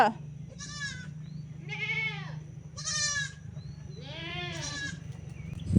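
A goat bleats four times in a row, loud, wavering cries spaced about a second apart, close by over a low steady background hum.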